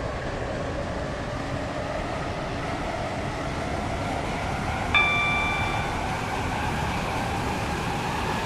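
A Waterline passenger train to Newry rumbles steadily along the tracks from inside the carriage, with a brief high chime sounding midway.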